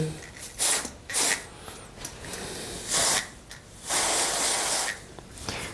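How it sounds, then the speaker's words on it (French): Cold spray hisses in several short and longer bursts onto small chocolate ribbons, close and sharp, with brief gaps of quiet between the blasts. "donc mettre de la bombe à froid"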